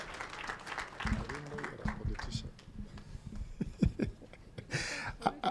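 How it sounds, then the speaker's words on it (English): An audience claps at a live launch event for an economic report on unpaid domestic and care work, with a voice speaking over the steady applause before a louder burst near the end. "Let us stand up, please, and give him a round of applause."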